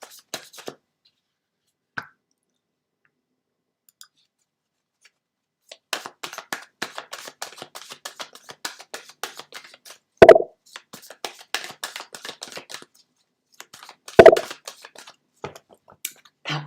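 Tarot cards shuffled by hand during a live reading, with intermittent soft riffling and tapping bursts separated by quiet gaps, and a couple of louder thumps of the deck being squared, close and clear.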